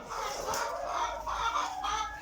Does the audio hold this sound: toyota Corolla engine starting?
no